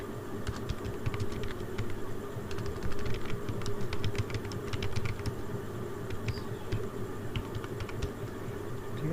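Typing on a computer keyboard to write a recipe note, with a steady run of close, light key clicks over a constant room hum.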